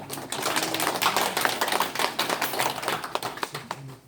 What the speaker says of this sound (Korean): 하나님께 감사의 영광을 돌리는 박수입니다